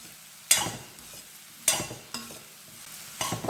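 Tomatoes and small onions sauté in hot oil for a chutney, a low sizzle broken by three sharp, scraping stirs of a spoon against the pan, close and loud.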